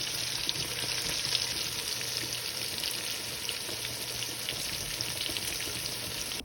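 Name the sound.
oxtails browning and sizzling in a pot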